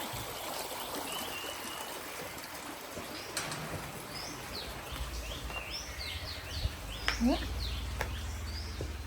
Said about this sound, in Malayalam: ഞാൻ രാവിലെ കാണിച്ചത് തോട് ഇതിലൂടെയാണ് വീഴുന്നത്